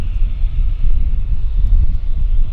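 A Flair airliner, flight 809 from Calgary, drones on approach to Vancouver airport as a steady, loud, low roar. Some wind rumble mixes in, with no voices.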